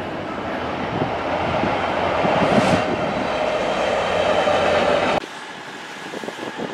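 A train at Stafford railway station gives a loud, broad rushing roar that holds steady and then cuts off abruptly, leaving quieter station ambience.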